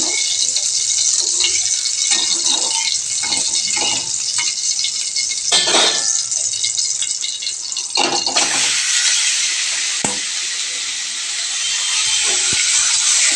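Mustard oil heats in a wok and sizzles loudly, a continuous bright frying hiss that holds steady throughout, with occasional scrapes and knocks of a utensil up close.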